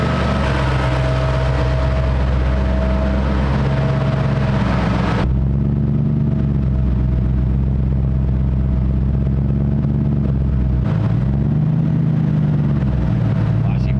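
A V8 engine in a BMW E36 idles with a steady, deep rumble. A louder hiss fades out partway through, and the idle wavers slightly near the end.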